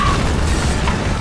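An RPG rocket explodes in an action movie trailer, a loud, close rumbling blast that stays dense and booming throughout the short moment.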